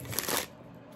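Tarot cards being shuffled by hand, a brief riffling burst of papery flutter lasting about half a second before dropping to quiet room tone.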